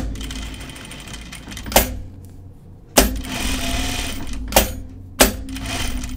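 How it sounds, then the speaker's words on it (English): A sewing machine presser foot is lifted and lowered, giving four sharp mechanical clacks at irregular intervals over a low steady machine hum, close and fairly loud. "I keep lifting and raising my presser foot. I know it's noisy."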